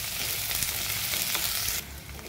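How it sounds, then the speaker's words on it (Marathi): Chopped onion fries in oil for spicy Kolhapuri kat, giving a loud, dense, continuous sizzle that drops noticeably quieter near the end, with no voices. "आता हे तेलामध्ये आपण कांदा चिरून घेतलेला आहे"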